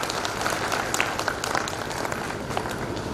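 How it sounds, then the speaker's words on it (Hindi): Audience at a stress-relief spiritual program in Srinagar Garhwal, Uttarakhand, claps together in a steady, dense patter that holds evenly for a few seconds, heard at moderate distance without speech over it. "एक बार जोरदार तालियां बजा दीजिए।"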